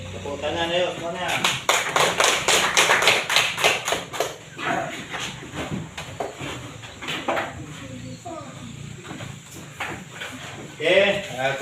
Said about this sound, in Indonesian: tepuk tangan yuk semuanya